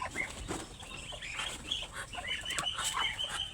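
Chickens cluck and chatter throughout, with scattered chirps and rustling in a busy outdoor farmyard; no talking.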